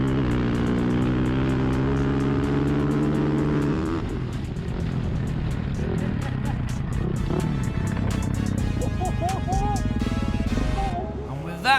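Powerful Kawasaki and KTM dirt bikes in a drag race, engines wailing through rising gears before a shift to a rougher roar and rapid revving, with voices talking over the machines.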